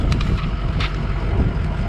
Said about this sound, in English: It's freaking so windy.